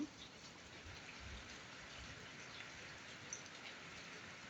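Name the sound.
heavy rain falling outside a window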